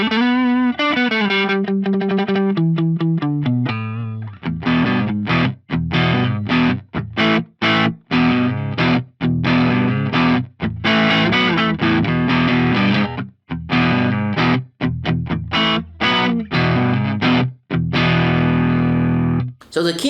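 Electric guitar through an Analog Man King of Tone drive pedal modelled on an Axe-Fx III: a descending run of notes, then a loud, driven, gritty riff of chords and single notes played alone and close.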